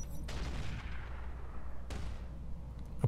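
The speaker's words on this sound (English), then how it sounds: "I'm going to have the turret shoot" Turret fire in the mech game Roguetech: two heavy booming shots about a second and a half apart, each followed by a rumbling decay over a constant low engine-like drone.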